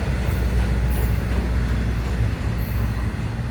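An FEC Railway train accelerates nearby with a heavy, continuous low rumble of wheels and rail noise, steady and loud throughout, with faint high squeals now and then.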